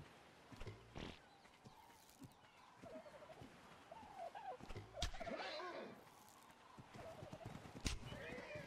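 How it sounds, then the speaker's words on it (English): A horse in Ark: Survival Evolved neighs and its hooves clop in short bursts, fairly faint and distant, with brief sharp knocks and other game sounds mixed in. "There's the horse."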